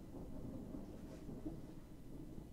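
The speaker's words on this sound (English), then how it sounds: "It's thunder." Distant thunder during a storm, a low continuous rumble rolling on for a couple of seconds with faint rain hiss beneath, no talking.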